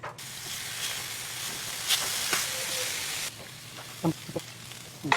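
Beef sizzles in a pan with a steady hiss of frying and a few brief stirring clinks, close and moderately loud, with no talk.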